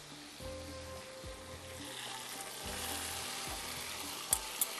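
Rice goes into a pot of hot oil with salt and ginger-garlic paste for massar pulao. The mixture sizzles quietly and steadily, with soft scraping and stirring, and two small clicks come near the end.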